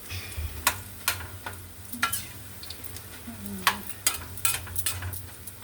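Frying food in a pan sizzles softly beneath repeated sharp scrapes and taps of a spatula stirring, the strokes coming at an irregular rhythm, close by.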